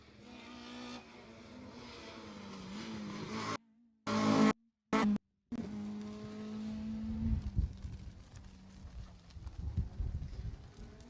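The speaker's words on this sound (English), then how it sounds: "So that's another corner, that's Dan Corner, Mark Regan coming through there" A rally car passes through a corner on a tarmac stage of the Jersey Rally, its engine note rising and falling with revving and a brief dropout, heard from trackside at moderate distance.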